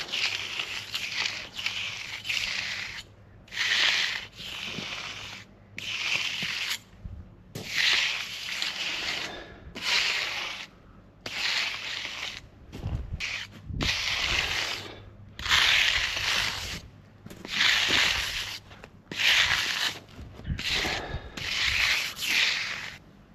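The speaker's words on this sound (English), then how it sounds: "we just got to trowel it again like we did before" Steel trowel and brush worked over a freshly laid wet concrete ramp, producing repeated rhythmic scraping and rubbing strokes in bursts with brief pauses between them, close and steady.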